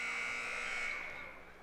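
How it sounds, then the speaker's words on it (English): An inadvertent buzzer sounds at a high school basketball game in a gym, holding a steady electronic tone before fading away over less than two seconds. "They're going to stop it, though, because of the inadvertent buzzer."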